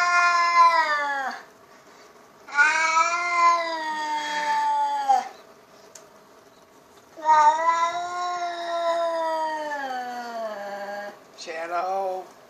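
A cat on a home's property yowls at another cat outside, giving long, loud, drawn-out wavering caterwauls in four separate bursts with short quiet gaps between them.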